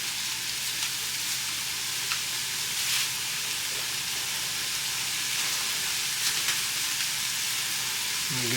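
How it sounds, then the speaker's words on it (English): Shredded hash brown potatoes frying in a pan, a steady loud sizzle with faint stirring scrapes throughout, close up and uninterrupted. "I'm just going to stir them in with this just for a few minutes"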